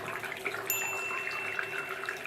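Touchless water faucet running in a steady, even stream, close by and moderately quiet, with a faint high tone partway through.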